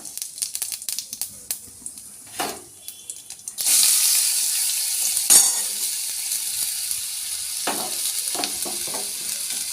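Potatoes sizzle and crackle steadily in a hot pan, a loud frying hiss starting partway through after some clattering, with a few stirring clinks.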